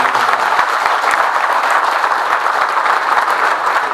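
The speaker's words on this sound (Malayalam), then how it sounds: "എല്ലാവർക്കും നിറഞ്ഞ കയ്യടിയോടുകൂടി" A crowd bursts into loud, sustained applause at a political party gathering, dense overlapping claps holding steady across the whole span with no speech.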